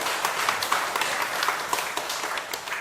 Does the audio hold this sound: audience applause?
yes